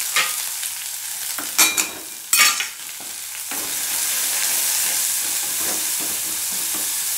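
Salted onions fry in a pan: a few sharp scraping stirs come early, then a steady, even sizzle carries on alone.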